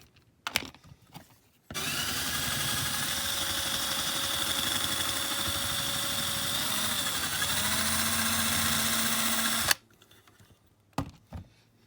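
A small power drill bores into the metal base of a diecast Dinky No. 253 Daimler ambulance, one continuous whining run of about eight seconds with the pitch dipping under load, framed by quiet handling clicks.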